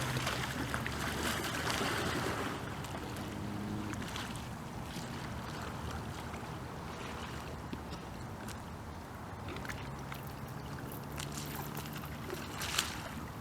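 Steady rushing water with sloshing and splashing as paddles dip, continuous river noise throughout, no talking.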